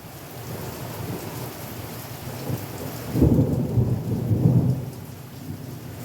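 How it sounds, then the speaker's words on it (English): Steady rain hisses throughout, and a deep rumble of thunder rolls in partway through, swelling twice before easing. No one speaks. "Can you hear me over the thunder?"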